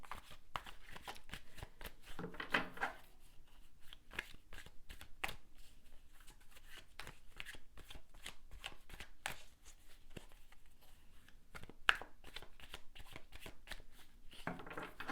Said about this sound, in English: So just let me pull some cards here.